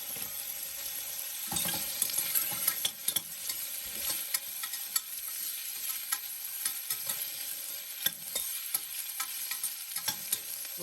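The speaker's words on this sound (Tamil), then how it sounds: "இப்போ வெங்காயம் நல்லா வதங்கி வரட்டும்" Onions sautéing in a pan for vegetable biryani, a soft steady sizzle broken by frequent scraping spatula strokes and light clinks, close-up with no talking.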